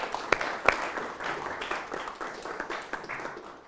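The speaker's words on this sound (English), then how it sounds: "would you be nice enough to give yourself a round of applause," Audience applause in a conference hall, a couple of sharp nearby claps up front and then a steady, moderate spread of clapping that stays even without fading.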